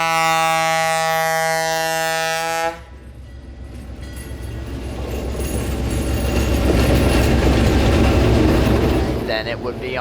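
Locomotive 1835 sounds its A200 train horn in one long, loud, steady blast. The horn cuts off, and a rumbling passing train and wind noise take over and grow gradually louder.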